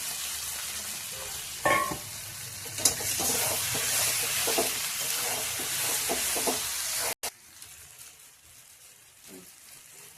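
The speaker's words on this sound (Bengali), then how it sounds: "ডিমগুলো দিয়ে একটু কষিয়ে নেবো ভালো করে।" Boiled eggs being sautéed and stirred in masala for a Bengali egg malai curry, a dense hissing sizzle with repeated spoon scrapes, easing to a quieter sizzle after a brief cut near the end.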